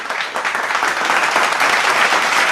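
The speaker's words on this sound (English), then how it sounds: "A big round of applause to the winners for their hard work." An audience applauds the grade 5 winners at a school closing ceremony, with steady, dense clapping from many people throughout the short stretch, cutting off abruptly at the end.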